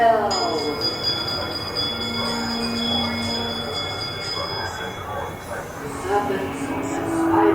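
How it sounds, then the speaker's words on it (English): On the Haunted Mansion dark ride, a bell rings with sustained metallic tones over a low, rumbling ride ambience with background voices and music. "give us a hint by ringing a bell"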